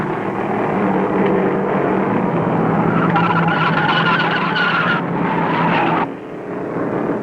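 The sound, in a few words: race car spinning and sliding on oil after blowing engine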